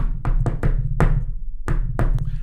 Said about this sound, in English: I've seen people in the industry teach the whole little friendly knock.